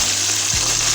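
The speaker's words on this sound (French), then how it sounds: "Vous voyez le comportement de notre poisson dans l'huile de friture." Fish frying in hot oil in a covered pot gives off a steady, dense hiss and crackle, loud and continuous throughout.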